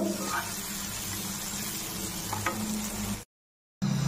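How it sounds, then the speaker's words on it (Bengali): Fried potatoes tossed back into a pan of light spicy oil for Bengali fish curry, frying with a steady close sizzle and stirring scrapes, broken by a brief silent gap near the end. "এখন দিয়ে দিচ্ছি আলু ভাজাগুলি, আর একটু ভেজে তারপর বেগুন দিয়ে ঝোল দিয়ে দেব।"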